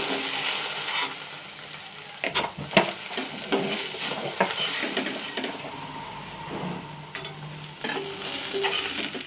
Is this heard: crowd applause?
no